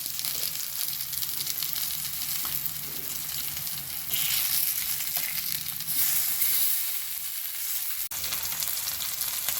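Fish pieces frying in a pan over a low flame, a dense continuous sizzle and crackle that stays close and fairly loud for the whole stretch, with a brief knock near the end and no talking.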